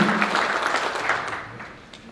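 Audience applause for a woman being honored at a tribute evening for Sheriff Bob Alford, a dense steady clatter of many hands that gradually thins and fades toward the end.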